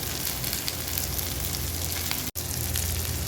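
Fish frying in hot oil in a pan for a spicy Tamil-style fish fry, giving a steady, close, dense sizzle throughout, broken by a single brief dropout near the end.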